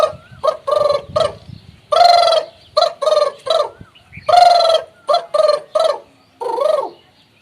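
A voice mimics the call of a water hen, a bird of ponds and lakes, in loud rhythmic bursts of clucking, trumpeting notes, grouped in quick runs with short pauses, close and alone with no talk.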